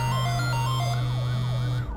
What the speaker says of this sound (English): Outside, sirens wail in the distance.